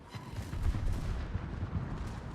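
Warship turrets firing in a naval combat video game, a dense rumbling barrage of low booms rolling continuously and fairly loud, no talk over it.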